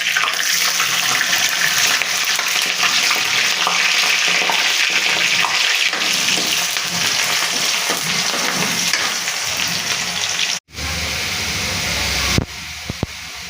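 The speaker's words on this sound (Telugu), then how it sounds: "ఉల్లిగడ్డ అయితే ఫ్రై అయిపోయింది" Onions and green chillies fry in a pan with cumin and mustard seeds, a dense steady crackling sizzle close by that drops off abruptly near the end, followed by a quieter clatter.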